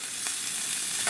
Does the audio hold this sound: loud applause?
no